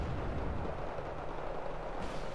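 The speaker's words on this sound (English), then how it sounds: "Still going to get his bombs off" Aircraft bombs exploding on a target in a combat video game, a dense, loud rumbling roll of blasts and crackling impacts that fades slightly toward the end, with no talk.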